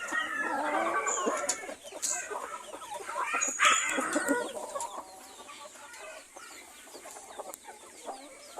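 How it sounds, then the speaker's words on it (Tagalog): Hens and roosters in a backyard flock, with clucking and a couple of crows at moderate distance, and no talk over them. "Mga inahin natin mga kabrada yan."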